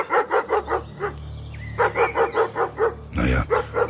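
A dog barks in a German audio drama, a rapid series of close, loud barks in steady rhythm, broken briefly by a whine and closing with a harsh burst.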